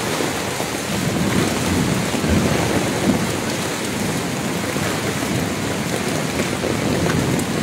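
Heavy rain pours steadily on surfaces during a storm in Chittagong, a dense, loud hiss with a low rumble of thunder beneath it and no voices.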